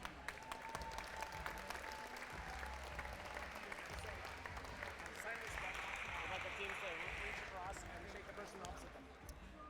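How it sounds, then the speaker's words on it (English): Audience applause for the finals teams at a STEMley Cup 2024 competition as they take the field, a steady broadband clatter of clapping across the whole stretch with some crowd noise underneath. "Let's give a big round of applause for our finals teams"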